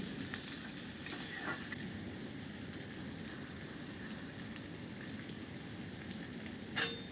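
Chopped onions with a little salt sizzle and fry in hot oil for a Bengali fish curry, a steady close crackle with a few stirring scrapes, fairly quiet and without talk.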